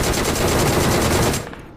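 A UMP submachine gun fires a rapid, continuous burst in the mobile shooter BGMI, loud and close, cutting off abruptly near the end.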